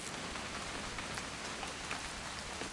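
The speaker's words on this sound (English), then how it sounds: "It's gonna rain the whole weekend" Steady, even rain from the video game What Remains of Edith Finch, a dense close hiss of drops pattering on surfaces with no gaps or other sounds.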